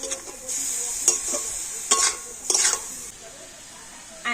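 A spoon stirs and mixes grated vegetables and chopped green chilies in a pan, giving several quick scraping strokes with a light sizzle between them, close and clear, then a pause before a final scrape.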